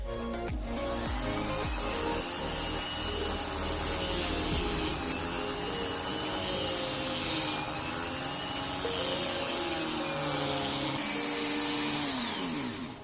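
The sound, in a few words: grinder cutting material for a slingshot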